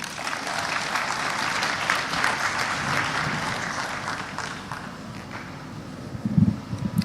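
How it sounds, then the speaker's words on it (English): Audience at a university fall convocation applauding a school principal, a dense, sustained clapping from a large crowd in a hall that gradually thins toward the end. "Please give him a round of applause"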